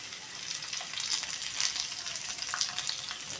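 Lentils (urad and chana dal) sautéing in a pan with a pinch of turmeric give off a steady, fairly quiet sizzle with faint crackles, the hiss holding evenly throughout with no talking.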